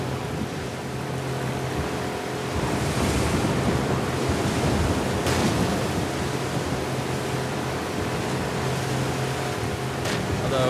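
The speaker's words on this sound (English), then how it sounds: "I guess we are in the ocean." Continuous roar of ocean surf and wind in The Last of Us Part 2, played steadily throughout with a broad wash of noise and occasional swells.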